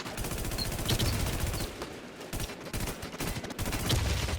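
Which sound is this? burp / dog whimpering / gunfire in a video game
gunfire in a video game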